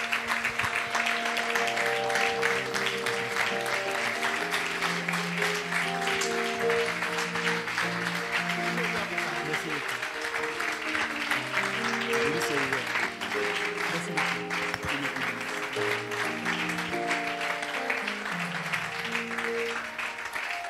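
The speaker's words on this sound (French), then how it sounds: "par vos acclamations, nous allons recevoir notre frère, le responsable, Charles Gay, qui ce matin" Applause from a church congregation welcoming a speaker, steady clapping over about twenty seconds with harmonic tones running underneath, likely music or voices, and no clear break.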